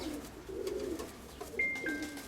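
A large grey scaled pigeon coos in low, soft rolling phrases, close by, with a brief high tonal ring near the end.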